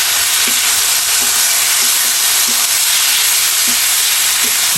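Taro leaves stir-frying in oil with dried shrimp, a loud, steady sizzle with faint periodic scraping knocks of a spatula stirring the pan.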